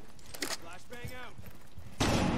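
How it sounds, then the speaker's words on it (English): A flashbang grenade in a Rainbow Six game bursts suddenly near the end as a loud, broad blast, after brief talk and a couple of quieter clicks and shots. "Flashbang out."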